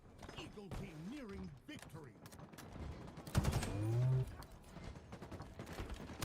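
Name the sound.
gunfire in video game Halo Infinite multiplayer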